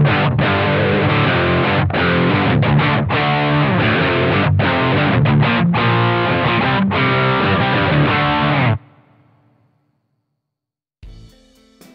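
A distorted Fender Player Plus Telecaster through an amp modeler preset using two amps panned left and right plays a driving riff with chunky chords, then stops abruptly, leaving a fading tail and a short noise.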